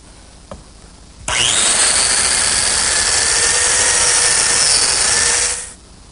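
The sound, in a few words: biscuit joiner cutting slots in wooden table legs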